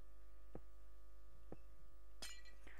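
Broken glass pieces clink sharply in three or four separate small knocks as they are handled and set down. A steady low electrical hum sits underneath.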